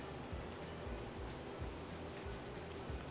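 Rain falls steadily in the American countryside, a constant soft hiss with faint patters of drops, heard alone without voices.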